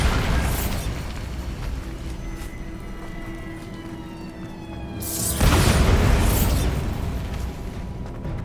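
A Bombarda spell explosion in Hogwarts Legacy, a loud blast at the start that decays into rumble, then a second heavy boom near the middle that stays loud to the end, amid game ambience.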